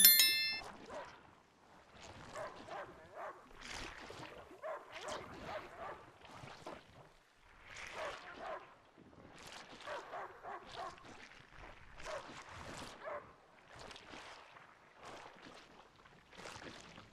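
Dog barking in the video game A Plague Tale: Innocence, a series of sharp barks and yips repeating every second or so across the whole stretch, mid-distance and moderately loud, with no talk over it.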